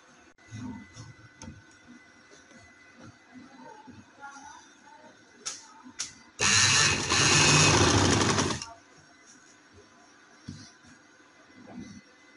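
A sewing machine stitching a sleeve runs in one loud, steady burst of about two seconds, close up, with soft handling noises and scattered speech before and after.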